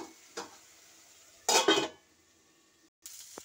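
A pan of potato and bitter gourd fry being stirred, with a few scraping, clinking spatula strokes against the metal and one louder burst of stirring midway, over a faint sizzle.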